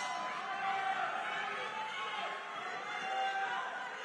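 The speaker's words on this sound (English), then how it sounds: "And it's loud in here. Both gyms brought a big crowd." A loud crowd roars and chatters steadily at an amateur Muay Thai fight, a dense wash of cheering voices with no clear single speaker.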